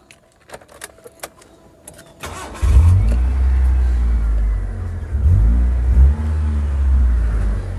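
A 1997 Mitsubishi Lancer CK4 with a Mivec engine in stock condition: keys jingle and click, then the engine cranks and fires, settling into a loud idle with several blips of revving, recorded up close.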